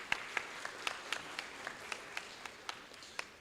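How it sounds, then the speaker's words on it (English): Honors college audience applauds honored individuals, sparse and faint with scattered distinct claps spaced out over a few seconds, heard from a distance in a large room. "A round of applause for these fantastic individuals"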